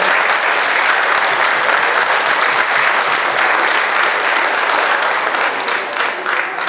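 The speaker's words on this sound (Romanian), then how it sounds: "vă rog să-l aplaudați" Dense, steady applause from a concert audience at a Romanian folk performance with Orchestra Doina Argesului, loud and continuous throughout with no talking.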